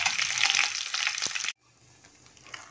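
Hot oil with fried tempering spices hisses loudly as it is poured into a pot of sambar in a kitchen. The intense sizzle lasts about a second and a half, stops abruptly and leaves a faint residual bubbling.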